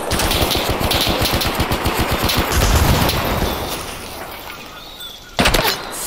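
Rapid machine-gun fire in the World War II game Block Front, heard as dense, loud automatic bursts that thin out toward the end before a final close burst, with a brief spoken remark.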